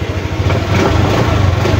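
Honda Click Version 3 scooter engine idling close by, a steady, even low putter with a light mechanical hum, running smoothly and quietly alone.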